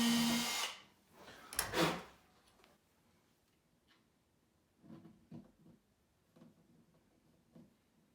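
A 1/8 drill bit whirs loudly in two short bursts near the start, drilling an acoustic guitar for a pickup install, followed by quieter intermittent taps and scraping.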